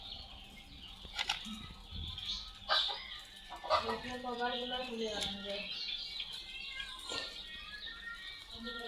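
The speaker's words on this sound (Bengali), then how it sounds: "আমাদের এই মুরগিগুলো সবগুলো এই লাইন হয়ে এখানে দাঁড়ায় থাকে" Chickens standing in a line cluck and chirp in short, scattered bursts, with an occasional flutter of wings, fairly faint against a quiet background.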